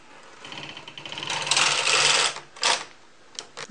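Knitting machine carriage sliding across the needle bed to knit the first row of a cast-on, a close rising mechanical whir and rattle in a long pass, then shorter clacking bursts, with no talk.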